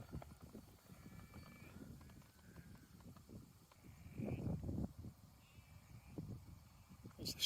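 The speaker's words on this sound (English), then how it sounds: "There's the sheep." Sheep bleat faintly a few times at a distance along a Highland walking trail near Crianlarich and Tyndrum, with outdoor rustling and wind around them.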